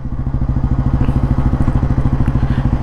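Close, loud idle of a vintage 1957 Royal Enfield Bullet G2, its single-cylinder engine beating in a regular low thump with light mechanical clatter on top.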